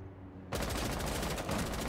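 Gunfire in the Rainbow Six Siege video game, a sudden loud burst of rapid automatic shots starting after a quieter half second and continuing steadily to the end.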